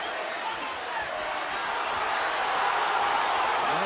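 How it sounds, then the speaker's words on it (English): Manchester crowd at Andrew Flintoff's boxing bout against Richard Dawson, a dense, steady roar that fills the hall and swells slightly louder toward the end, with no clear voices rising above it. "Every assault from Flintoff is roared on by this Manchester crowd."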